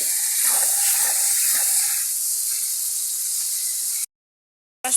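Pangas fish cooks with tomatoes in a pan while being stirred, giving a loud, steady sizzling hiss with faint scraping underneath that cuts off abruptly near the end.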